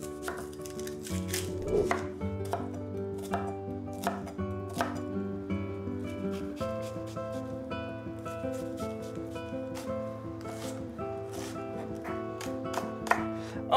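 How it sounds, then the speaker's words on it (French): Steady knife chopping of an onion finely on a board with rapid repeated taps, under a continuous musical background. "je coupe finement un oignon"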